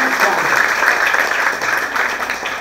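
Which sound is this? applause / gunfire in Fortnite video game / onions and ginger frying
applause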